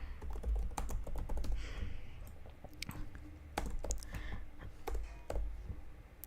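Keystrokes tapping on a computer keyboard while a name is typed into a Figma design, scattered irregular clicks in short bursts, close and clear with no talking.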